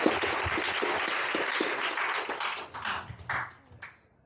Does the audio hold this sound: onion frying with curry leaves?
no